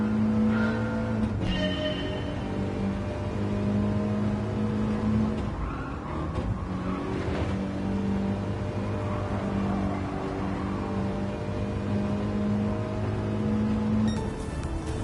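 A Mini's engine hums steadily through an S-corner in the video game Gran Turismo, a continuous mid-level drone with shifting pitch and faint tire noise, no voices over it.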